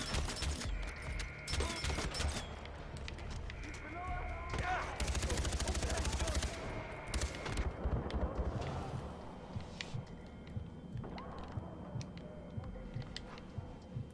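Rapid automatic gunfire and bursts of shooting in the video game Far Cry 4, dense and loud throughout, with a heavier blast around the middle and voices talking over the action.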